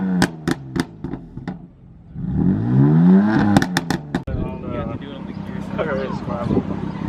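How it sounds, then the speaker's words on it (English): A BMW 340 fitted with an M Performance exhaust revs hard, its loud engine note rising and falling for a few seconds at a car meet, with people talking over and around it. "We got a 340 with the M Performance exhaust. This thing sounds so mean."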